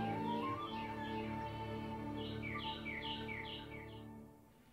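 Birds calling in the Everglades, a run of bright, repeated chirps and warbling notes standing out clearly over a steady background hum, with the calls thinning toward the end.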